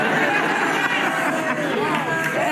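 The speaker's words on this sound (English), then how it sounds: "It is a particularly happy crowd today" Studio audience crowd on a daytime talk show, a dense, steady wash of happy chatter and murmuring from many people, loud and continuous with no pauses.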